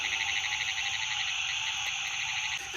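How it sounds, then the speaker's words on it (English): A steady, dense buzzing trill of narrow-mouthed frog calls in South Carolina, continuous and fairly close, with faint insect chirring in the background. "I finally found one of those narrow-mouthed frogs calling at me right there"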